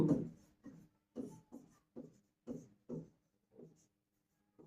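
Pen or pencil writing on paper during a higher-math lesson on sets and functions: about nine short, close scratching strokes in an irregular rhythm, separated by brief silences, with no talking.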